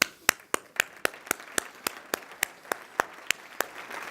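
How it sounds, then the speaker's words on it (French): At a 2017 insurance and investment congress, financial advisers clap in a slow, even rhythm: about fourteen crisp, regularly spaced claps, fairly faint and without voices. "Vous pouvez vous applaudir."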